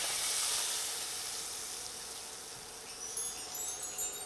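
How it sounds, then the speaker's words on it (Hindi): Hot tempering poured into pea dal sizzles loudly at first, a bright hissing that slowly fades, then crackles and pops return near the end, close up with no talking. "दाल में आप दूसरा छौक लगा दिया।"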